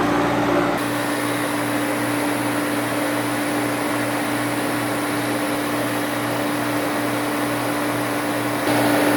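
A refrigerant recovery machine pulls a deep vacuum on a Kia's car air-conditioning system, giving a steady droning motor hum with a constant tonal whine that runs without pause or voices.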